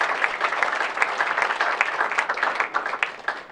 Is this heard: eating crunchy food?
no